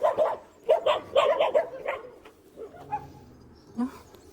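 Several dogs bark in a burst of sharp, repeated woofs close by outdoors in a town centre, then trail off into scattered quieter yips and a single later bark.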